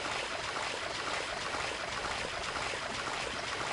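Swimming through a water level in the video game Mordillo's Jungle Fever: a steady, moderately quiet wash of flowing, trickling water that continues evenly throughout without pauses.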